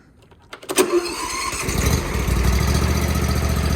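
A Kawasaki lawnmower engine that smokes badly on start-up cranks briefly, catches and then settles into a loud, steady idle nearby.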